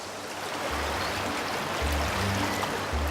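A river running over stones, a steady close rush of flowing and trickling water that fills the whole short stretch with no voices.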